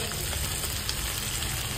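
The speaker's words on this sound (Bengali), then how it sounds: "এবার একটুখানি ভালো করে ভেজে নেব।" Mutton fat fries in a pan with a continuous, dense sizzle heard up close and without talk.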